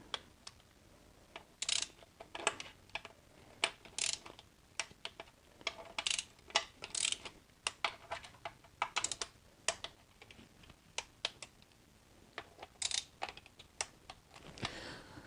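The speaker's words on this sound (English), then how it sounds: "Now I'm going to retorque all the other bolts to the same torque setting." Torque wrench retorquing the bolts on a BMW E46 330i/325i ZF 5HP19 transmission during a rebuild, set to 8 newton meters, giving a close, fast series of sharp clicks and ticks in irregular bursts, alone without talk.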